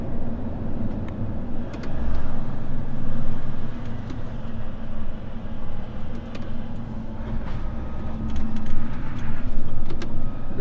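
A refrigerated truck's engine brake rumbles low and steady while its tires drag on the road, a continuous heavy drone heard from inside the moving cab with no talk.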